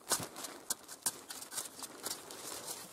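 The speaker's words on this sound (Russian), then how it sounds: "Стук камня, что-то есть." A metal probe strikes stone underground while searching for perelivt, giving several faint, sharp, irregular knocks and scrapes amid quiet outdoor background.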